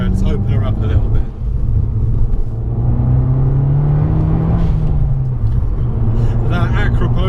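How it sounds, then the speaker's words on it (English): An Abarth 595 with an Akrapovic exhaust rumbles loudly from inside the cabin as it accelerates, the engine note rising and shifting in pitch while someone talks over it. "That Akrapovic exhaust sounds insane."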